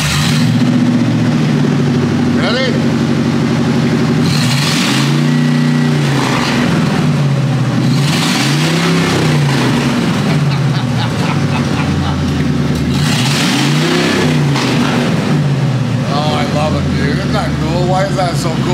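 Loud engine of a remote-controlled limousine revving repeatedly, rising and falling in pitch with several throttle bursts over a rough idle, while people talk over it.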